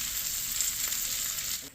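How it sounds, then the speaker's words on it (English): Potatoes seasoned with pepper and salt fry in a pan with a steady, close sizzle that stays level for the whole short stretch and then eases off at the very end. "now we're cooking our potatoes here with our pepper and salt"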